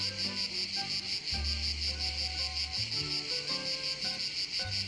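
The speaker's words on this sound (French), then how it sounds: "Avec le chant des cigales." Loud, steady insect chorus in a forest, the continuous pulsing buzz of cicadas singing close by without pause, with some low rumbling underneath.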